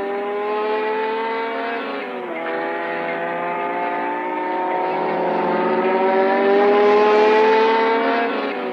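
Renault Alpine A210 race cars with Renault Gordini 1300 cc engines at the 1966 Le Mans 24 Hours give a loud, steady engine drone that lasts throughout, its pitch dipping briefly and then climbing gradually.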